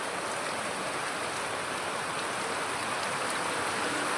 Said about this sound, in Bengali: চারিদিকে শুধু বৃষ্টি বৃষ্টি।